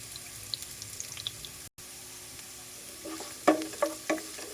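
Garlic frying in a pan until golden brown, a faint steady sizzle with light stirring clicks, then louder scraping stirs near the end.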